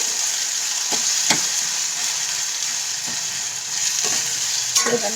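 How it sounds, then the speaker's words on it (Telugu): Ginger garlic paste sizzles and fries in a pan for a country chicken curry, a steady close sizzle broken by a few short stirring scrapes, with no voices. "ఇప్పుడు దీంట్లో కూడా కొంచెం అల్లం వెల్లుల్లి పేస్ట్ దీంట్లో వేసేస్తున్నాము."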